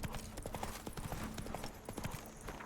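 Horse hooves clip-clop steadily in The Witcher 3, a rapid even rhythm of close, loud hoofbeats running throughout with no talk over them.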